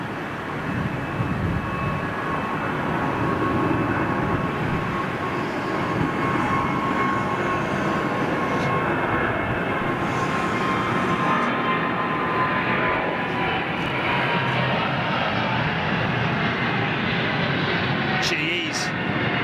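A large jet airliner powered by GE90 engines passes by with a loud, steady, broad roar that holds throughout, and faint voices can be heard under it.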